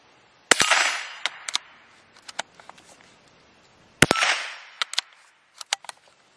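.22 caliber gunshots at flea market targets: two sharp, loud cracks about three and a half seconds apart, each followed by a brief ringing tail and several quick metallic clinks and pings.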